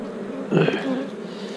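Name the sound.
honey bees buzzing during hive inspection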